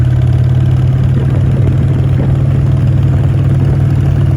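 A Harley-Davidson Sportster engine runs steadily and loud, freshly rebuilt after base gasket removal and pistons cleared of heavy carbon, a continuous low, throbbing idle with no voices.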